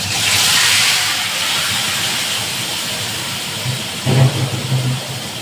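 Spiced pabda fish with whole green chillies goes into a hot kadai, setting off a loud, sustained hiss of frying oil. A brief heavier sputter flares near the end.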